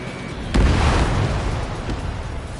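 A missile explodes in Ace Combat 7 with one heavy, close boom that rolls into a long, dense rumble. A fainter thud follows, with no voices.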